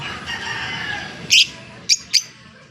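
A bird gives three short, sharp chirps near the end, clear above a low background hum and faint ambient noise.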